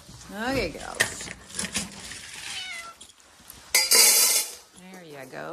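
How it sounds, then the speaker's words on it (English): Cats meow repeatedly in a barn at feeding time, a string of rising and falling cries close by, with a person speaking in between and a brief burst of clattering partway through. "Head to the barn and feed the cats."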